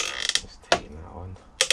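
A screw is tightened on a TRX4 RC car bash plate, making close, loud ratcheting clicks in short bursts at the start and end with a single sharp click between them.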